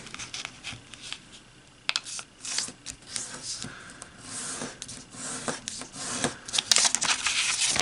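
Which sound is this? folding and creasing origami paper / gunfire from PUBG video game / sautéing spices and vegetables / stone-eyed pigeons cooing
folding and creasing origami paper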